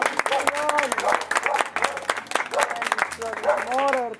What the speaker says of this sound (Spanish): Un aplauso, pues un aplauso